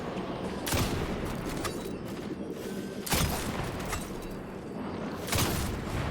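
Sniper rifle headshots with the New Land Beyond in a video game, set in the EDZ: three sharp, isolated shots a few seconds apart, each a crisp crack with a short tail over a steady low background and no talk.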